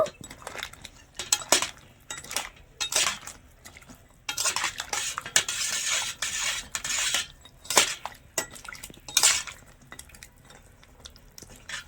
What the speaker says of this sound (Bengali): এই চমচমগুলো চিনি রসের মধ্যে দিয়ে দেব ভালো করে নেড়ে ছেড়ে একটু মিশিয়ে নেব